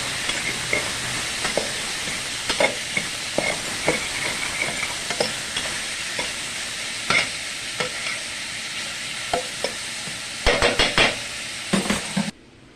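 Bacon, smoked turkey neck and onions frying in a pot: a dense, continuous sizzle with a spoon scraping and knocking against the pot at irregular intervals, loud and close, cutting off abruptly at the end.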